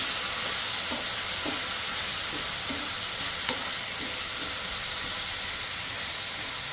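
Curry with turmeric, chilli, cumin and a splash of water being stir-fried down in a pan: an even, close sizzling hiss with soft repeated scraping strokes of the spatula throughout.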